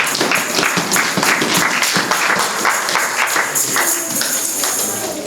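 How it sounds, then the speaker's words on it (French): A church congregation claps together in sustained, dense applause during a worship service, loud and continuous throughout with a steady rhythmic texture. "Applaudissons pour la gloire de Dieu"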